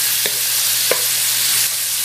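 Pork sautéing for chopsuey gives a loud, dense, continuous sizzle close by, with a few soft knocks of the utensil against the pan and no talk.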